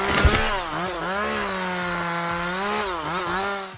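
A toy-style chainsaw effect plays for chainsaw ears on a LEGO minifigure. It is a loud, continuous buzzing drone that rises and falls in pitch as if revving, with a clunk at the start.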